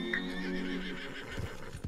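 Horse in Red Dead Redemption 2 gives a loud, drawn-out whinny, followed by a few clip-clopping hoofbeats near the end, with no talk over it.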